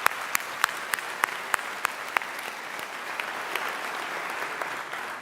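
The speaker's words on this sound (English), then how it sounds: "So just another big round of applause." Sustained applause from a graduation convocation audience, a dense wash of clapping with sharper individual claps standing out near the start, steady and fairly close throughout with no talking.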